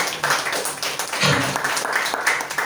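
Church congregation applauding together, a steady wash of many hands clapping at moderate volume with a faint voice underneath.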